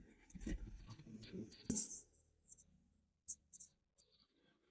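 Faint pen or chalk strokes during a geography lesson on the solar system, short scratchy bursts separated by quiet gaps, with soft speech near the start.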